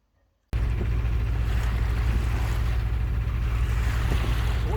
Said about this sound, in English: we're motoring because there's no wind